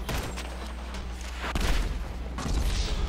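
An RPG blast in GTA V, with dull booms and rumbling gunfire-like bursts rolling through a busy, noisy game mix, the heaviest hits landing near the middle and end.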